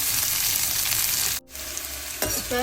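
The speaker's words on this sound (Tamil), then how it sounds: "அதோட ரெண்டு மூணு பச்சை மிளகாய் கொஞ்ச நேரம் நல்லா பொரியட்டும்" Two or three green chillies fry in hot oil for a brinjal curry, giving a steady close sizzle that cuts out briefly before the crackle and stirring resume.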